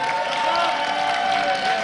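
Crowd applause fills the hall at a League of Legends EU LCS Summer 2013 esports event in Tenerife, Spain, a steady dense clatter of clapping with cheering mixed in, continuous and fairly loud.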